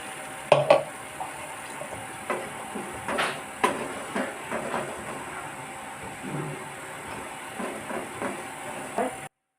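A pan of Goan mango sasav base cooking, with scattered stirring scrapes and soft clinks of a utensil against the pan over a low, steady background hiss; no one speaks.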